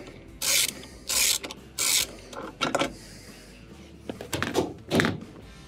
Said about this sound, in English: as you loosen the bolt.